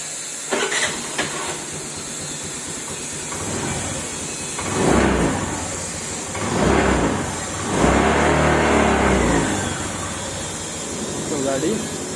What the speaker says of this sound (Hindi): फिर से एक बार मैं स्टार्ट करके दिखा देता हूँ।